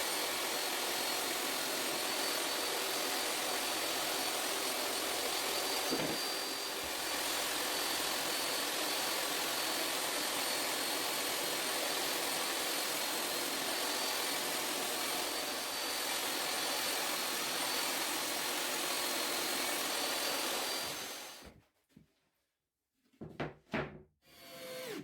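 A power saw cuts a tabletop to size for a rolling table saw stand, its loud, steady motor whine running without a break for about twenty seconds before it stops, followed by a few short knocks and clatters.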